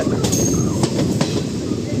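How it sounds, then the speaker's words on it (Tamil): Passenger train rolling out of Madurai station, with steady rumbling, wheel clatter and brief metallic squeals close by, while a person talks over the noise. "பேரலல் டிபார்ச்சராக நம்ம ரெண்டு ட்ரெயினுமே கிளம்பியாச்சு"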